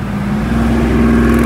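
An old French car with a four-speed gearbox and about 45 horsepower pulls hard at full throttle near 120 km/h, with a steady, loud droning engine hum from inside the cabin.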